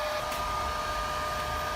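Steady, close whir of a hair dryer blowing continuously, an even airy hum with a faint high tone and no voices.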